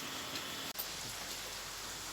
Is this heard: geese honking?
no